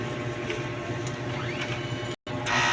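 DTF printer running a print head cleaning cycle, with a steady mechanical whir, a brief drop to near silence, then a louder motor hum as the cycle resumes.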